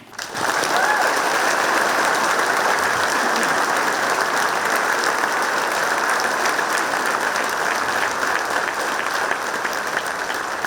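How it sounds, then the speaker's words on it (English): Warm applause from a packed town hall audience at an East Idaho water meeting, loud sustained clapping from a full room that starts abruptly and holds steady throughout without voices. "please give a warm round of applause for Frank VanderSloot"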